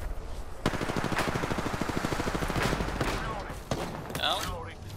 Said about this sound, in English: I'm getting shot by another team.